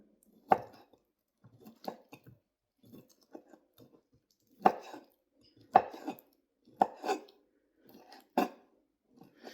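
Knife slicing through octopus on a cutting board: sharp, separate chopping strokes in an uneven rhythm with softer wet squishes between them, close and clear with no talk.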